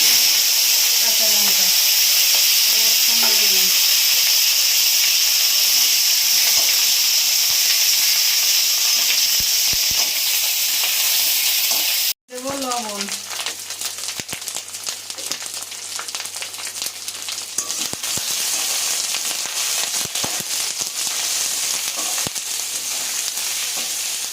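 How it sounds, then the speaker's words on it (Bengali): Ginger, aubergine and potato fry in hot oil, a loud, steady close sizzle and hiss that fills the whole stretch, with a brief break halfway and a voice speaking faintly beneath it. "এই তেলে দেবো আমি আদা দেবো বেগুন আলু"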